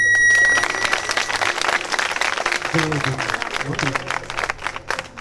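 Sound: students applauding and cheering

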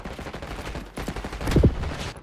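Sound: gunfire in the video game Black Ops 6

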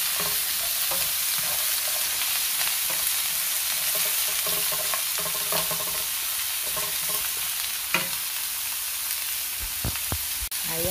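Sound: sautéing bitter gourd with pork in pan

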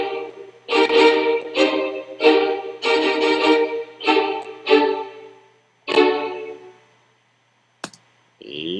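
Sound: quantized tune played back in Reaper DAW

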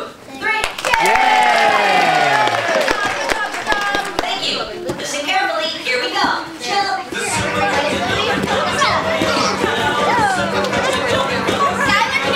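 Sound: parents cheering for children at a gym class

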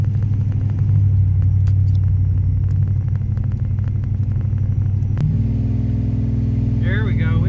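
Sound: TorqStorm supercharger blower whine on boosted Ram engine

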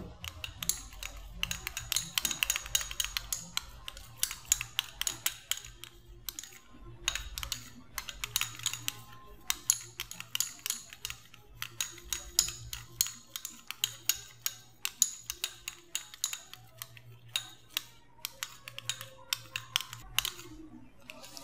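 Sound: stirring the Vaseline lotion mixture in a bowl

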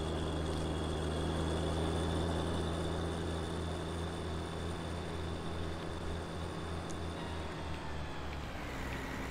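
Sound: tractor engine while driving in a video game

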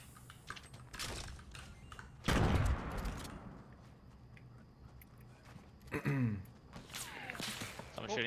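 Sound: gunfire in the video game Fortnite

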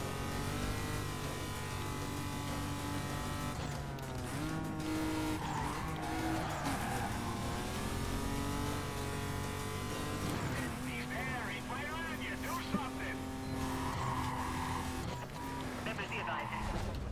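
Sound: car engine revving in Need for Speed: Carbon, video game

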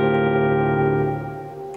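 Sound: electric guitar chord played in drop D tuning

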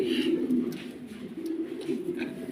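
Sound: pigeon cooing

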